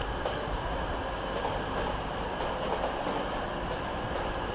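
A train at Manchester Piccadilly station rumbles steadily as it passes, with a constant broad roar and faint wheel noise for a few seconds and no talk.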